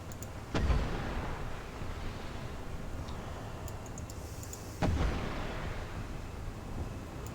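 Missiles firing in the War Thunder video game, two sharp heavy launch blasts about four seconds apart, each followed by a sustained roaring rumble, with faint ticking clicks in between and no talk.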